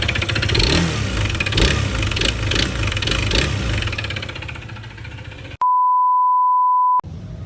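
A Honda PCX 160 scooter engine with a sudden abnormal noise runs loud and rattly up close with uneven knocking and revving, then a long steady beep cuts in before the engine returns.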